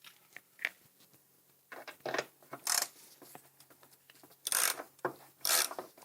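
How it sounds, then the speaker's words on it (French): A ratchet loosens a 10 mm screw on a Peugeot 406 coupé headlight, giving short bursts of rasping clicks separated by pauses, close and moderately loud. "On va pouvoir desserrer cette vis là."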